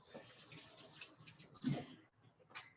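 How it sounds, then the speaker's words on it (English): Ginger rinsed under running tap water gives a faint, uneven splashing stream with brief spatters, close by and quiet, without talking. "You just need a little bit of ginger. I'm going to rinse it."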